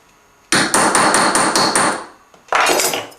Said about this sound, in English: I'm going to strike this again